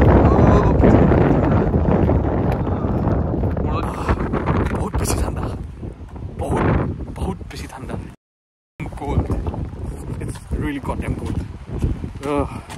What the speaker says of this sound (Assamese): এতিয়া বহুত বেছি বতাহ